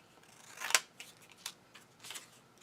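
Scissors cut through paper in a craft setting, shaping a scalloped circle with a few crisp snips, one sharp and loud and the rest softer, set against near silence.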